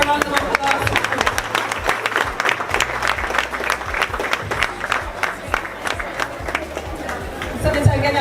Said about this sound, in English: Let us give Senator a round of applause